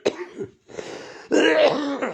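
A man with a cold coughs and clears his throat up close, a few short rough bursts followed by a longer, harsher throat-clearing rasp.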